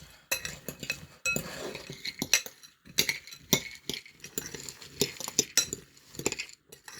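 Salad greens with pear and cranberries being tossed in a bowl, giving repeated clinks of a utensil against the dish in irregular bursts, close and fairly quiet, with no talking.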